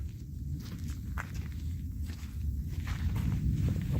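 Steady footsteps crunch along at a walking pace over a low, rumbling background, fairly close and even in loudness.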